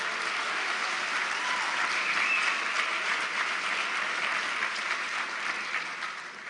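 An audience at the Fandango & Wicker and Wine 2016 gala applauding and cheering for the sponsors, a bright, dense clapping wash with scattered cheers that swells slightly midway and then tapers off.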